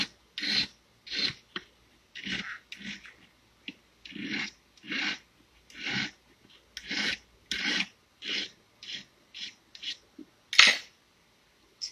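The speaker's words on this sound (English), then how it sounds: "we've also got this one, could use some filing too" A hand file rasps across the edges of a thin piece in about twenty separate strokes, each a short, close, gritty scrape with brief pauses between, no voices.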